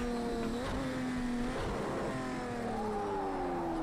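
Race car engine in the video game Project Cars 2, a steady droning whine that climbs and shifts in pitch as the car revs and changes gear, loud and continuous with no talk over it.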